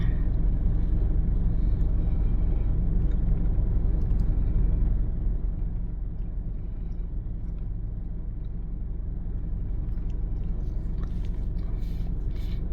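A vehicle passes along a street, a steady low engine rumble that is loud at first and eases slightly after a few seconds, with no talk.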